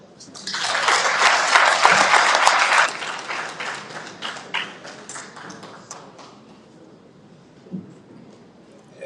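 Applause from an audience at a Haitian public event for the Prime Minister's representative, the chief of cabinet, Maître Axel Joseph: a loud dense burst of clapping for about three seconds, then thinning into scattered claps that fade out.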